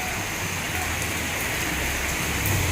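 Heavy rain pours steadily in a windy storm in Kutch, a dense, constant roar with low gusting rumble, close and unbroken throughout with no voices.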